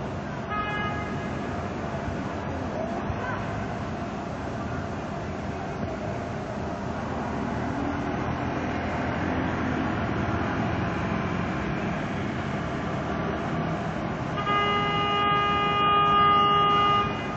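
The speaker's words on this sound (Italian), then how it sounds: "Inevitabili clacson." Car horns honk amid a Palermo traffic jam as a bus is blocked by a badly parked car, with short toots early on and a longer, louder sustained blare near the end over a steady traffic rumble.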